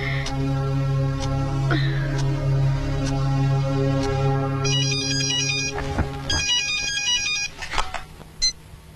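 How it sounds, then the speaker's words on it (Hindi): A phone rings on and on with nobody picking up, a steady electronic ringtone with repeating tones that carries on for several seconds and then breaks into a few scattered beeps near the end. "जॉन भाई सब फोन क्यों नहीं उठा रहे हैं?"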